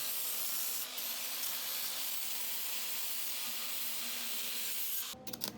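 Grinding a weld on a steel rocket stove, a steady abrasive hiss and rub held for about five seconds before stopping abruptly, followed by a few brief clanks.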